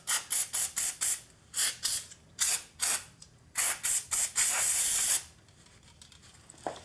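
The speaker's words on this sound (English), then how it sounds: "we're going to use some brake cleaner" Brake cleaner sprays onto the cam of a Harbor Freight 3-ton floor jack in short, close hissing bursts of about half a second each, ending in one longer continuous blast before falling quiet.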